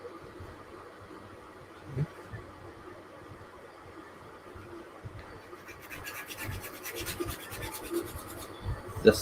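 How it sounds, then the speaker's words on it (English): Hand sanding of a 3D-printed part being smoothed of layer lines before pressing, with a steady soft rasping scrape throughout that grows busier and brighter in the second half, occasional louder strokes, no talk. "This side here doesn't require any sanding, but I'm doing it anyway"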